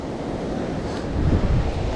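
Rough sea surf rolls near a house build on the coast of Antique, Philippines, a loud continuous low wash with a swelling surge toward the end, roughened by wind buffeting the microphone and with no talking.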